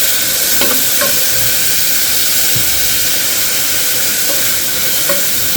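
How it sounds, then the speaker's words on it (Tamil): Curry leaves frying lightly in hot oil for an Andhra-style tomato chutney give a steady, close sizzling hiss with a few faint stirring clinks, and no voices. "கொஞ்சம் கருவேப்பிலையும் ஆட் பண்ணிக்கலாம். லைட்டாக ஃப்ரை ஆகட்டும்."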